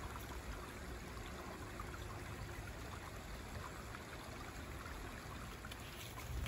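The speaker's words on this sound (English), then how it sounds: "but here's some more water." Stream water flowing along a nature trail at Heritage Farm in Connecticut, a steady, continuous rushing trickle with no voices, even in level from start to finish.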